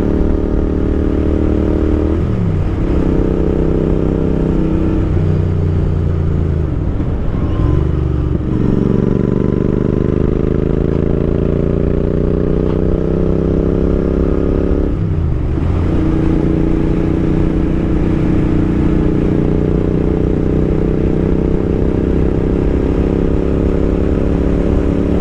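A Royal Enfield Interceptor motorcycle engine heard while riding on a country road, a loud, steady rumbling drone with pitch dips and rises as the rider shifts gears and changes speed, continuous throughout.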